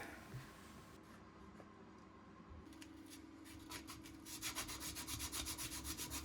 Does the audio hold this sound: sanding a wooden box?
yes